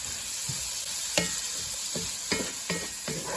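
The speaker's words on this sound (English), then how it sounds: "I want to let this fry just for about 3 or 4 minutes." Osso buco frying in a pan, a constant bright sizzle overlaid by several sharp scraping stirs and clanks at irregular intervals, close and fairly loud, without speech.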